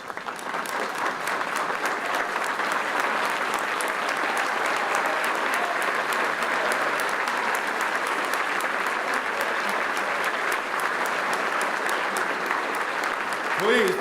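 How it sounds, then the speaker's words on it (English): A luncheon crowd gives a sustained standing round of applause, dense and steady for the whole stretch, with voices faintly underneath and rising at the end. "Let's stand and give a rounding of applause to Richard Gonzmart."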